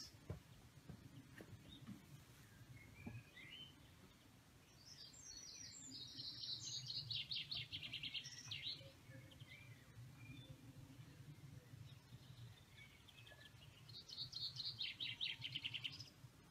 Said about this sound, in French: Vous entendez ces petits oiseaux